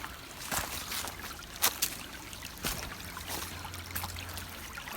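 Water in a shallow stream trickles and splashes as someone wades across it on a hike at Lake Jackson Mounds, with faint gurgling throughout and a few louder sloshing footsteps.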